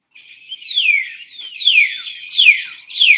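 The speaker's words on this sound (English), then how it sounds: "Bird." A bird chirps alone in a series of four clear descending whistled calls, evenly spaced and close.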